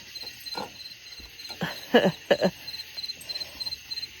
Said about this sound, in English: I hope the crickets aren't too annoying. I love listening to the crickets.